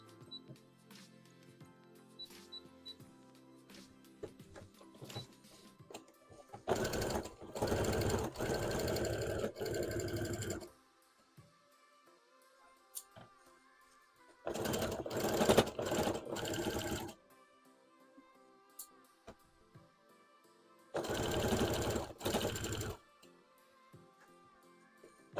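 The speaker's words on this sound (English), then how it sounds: "Oh, I forgot I still got the zigzag stitch on." A sewing machine runs a zigzag stitch in three separate loud, whirring bursts of a few seconds each, with quiet pauses and faint handling noises between them.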